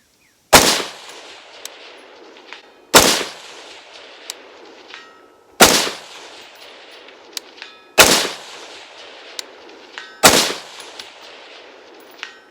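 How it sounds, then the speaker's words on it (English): Five loud, sharp pistol shots from a Springfield Armory Saint Edge, evenly spaced a couple of seconds apart, each followed by a faint metallic ting of a distant steel target ringing outdoors. "I'm gonna wait till I hear the ting to send the next round."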